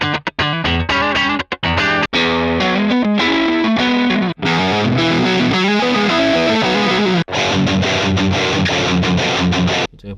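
A heavily distorted electric guitar played through a Line 6 Helix Stadium amp simulator, loud and dense with chugging chords and sustained riffs, with a few brief cuts in the playing and no voices.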